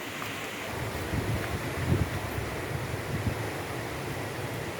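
A green, clear river flows near the Lebon gold mine, giving a steady broadband rush of water mixed with outdoor wind noise, moderately loud and constant with slight swells, and no voices.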